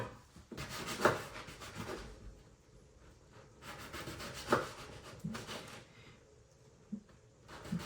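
A knife saws through a fresh, warm baguette, giving rough crusty rasping strokes in bursts with quiet gaps and a few small crackles between cuts.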